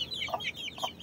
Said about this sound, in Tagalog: Dito may isa din tayong inahin.